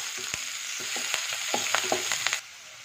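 Curry leaves sauté in a pan for an Andhra-style cabbage fry, making a lively close sizzle with scattered stirring clicks before the sound cuts off abruptly near the end.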